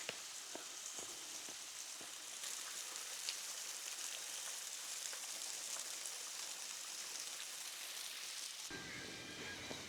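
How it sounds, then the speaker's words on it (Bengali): Rushing water of Risang waterfall near Khagrachari, a faint continuous broadband hiss of falling water heard from some distance with little variation, a few soft knocks early on and no talking. "পানির শব্দটা একটু শোনাই আপনাদেরকে"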